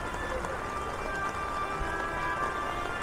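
Steady rain hisses evenly over a surface at a traditional market fair in Sokcho, South Korea, a soft continuous wash heard from close by, with faint tonal hums in the background.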